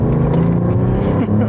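A Mercedes-AMG E53 hybrid pulls hard under full throttle, its engine drone rising steadily and close, with a harmonic shift near the end, while a voice talks over it.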